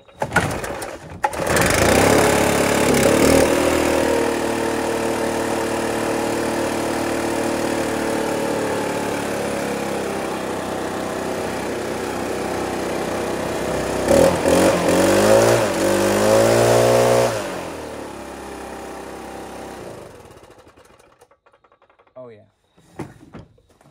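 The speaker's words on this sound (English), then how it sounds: "Let's fire it up and see." A Stihl BR 800 backpack leaf blower with a newly swapped muffler starts after a brief pull and runs at a steady loud drone, revs up briefly near the end, then cuts off, leaving a few faint clicks.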